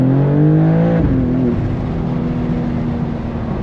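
A BMW M2 G87 inline-six with an Akrapovic titanium slip-on exhaust drones loudly at speed on the autobahn, its pitch dropping with a shift after a second, then a steady deep rumble with road and wind noise.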